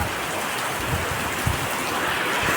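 Steady rain falls and patters on surfaces in a constant wash of sound, with occasional low rumbles underneath and no talking.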